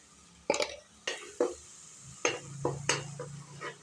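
Sizzling oil with spices and red chilli powder frying for vegetable biryani, broken by several sharp scraping stirs of a spoon against the pan; close up, no talking.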